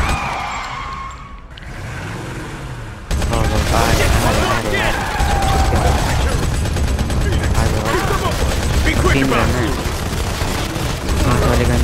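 Rapid bursts of gunfire in the Modern Combat 5 video game, loud and sustained after a brief quieter lead-in, with voices talking over the shooting.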